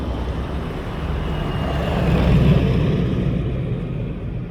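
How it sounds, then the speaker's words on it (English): Road traffic heard during an outdoor walk, a continuous low rumble of passing cars swelling as a vehicle draws closer near the middle, then fading again, with no voices. "Boy, we hit the traffic, huh?"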